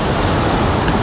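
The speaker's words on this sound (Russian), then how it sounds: "она перетекает и создает вот такую стену водопада" Water pouring from pipes to form an artificial waterfall wall in a seaside park in New Athos, Abkhazia, making a steady, dense rushing hiss that stays even and close for the whole brief moment.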